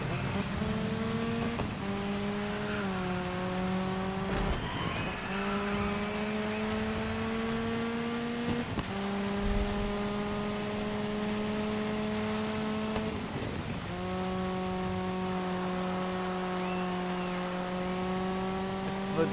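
A car engine in the racing video game Dirt 5 drones and climbs through repeated gear shifts, each rising whine dropping and starting again, steady and loud over faint background noise.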